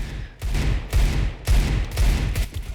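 Desert Eagle pistol shots in a Counter-Strike FACEIT match, five loud, heavy booms spaced about half a second apart, each with a short echoing tail.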